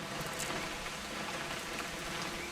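Steady rain falls in the game What Remains of Edith Finch, an even soft hiss of drops hitting surfaces that continues without a break and with no voices.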